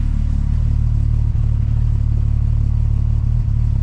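A Mk4 VR6 12-valve engine fitted with new 268 camshafts idles close by, a loud, steady low rumble with a faint uneven dip in rhythm and no talking.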